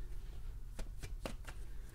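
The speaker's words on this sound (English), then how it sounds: "as I'm shuffling, I shuffle the deck for you guys" A tarot card deck being shuffled by hand gives a series of soft, crisp riffling snaps, roughly four or five evenly spaced, faint and close over a low background hum.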